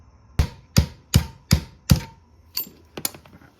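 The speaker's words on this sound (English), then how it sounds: "Grab a pair of needle nose pliers and squeeze onto them and hit it with a hammer" A hammer striking needle-nose pliers clamped on a brake pad pin of a 1996-2002 Toyota 4Runner, five loud metallic blows in steady rhythm followed by three lighter taps, close and alone.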